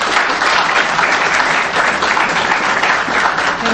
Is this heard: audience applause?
yes